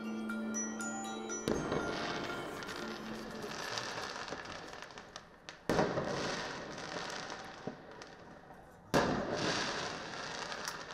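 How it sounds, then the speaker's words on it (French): Firework mortars and big firecrackers fired at night in front of a housing estate, aimed at police: loud sharp bangs around two, six and nine seconds over a continuous crackling, fizzing din, with smaller pops scattered throughout. "Cette nuit-là, des jeunes ont tiré des mortiers d'artifice. Des gros pétards sur la police, devant la cité."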